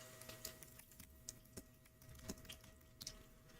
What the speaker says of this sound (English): And then I'm going to type in my password.